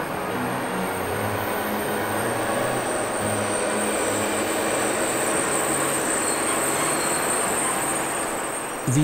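A Class 219 diesel locomotive train rumbles past close by, a continuous heavy roar with rhythmic wheel clatter and a brief squeal near the end.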